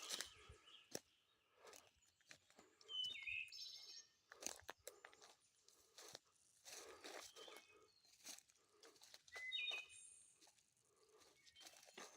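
Birds chirp in short, scattered calls along a woodland trail behind a campsite, with light crunching footsteps and rustle in between; the calls are faint and come from a distance.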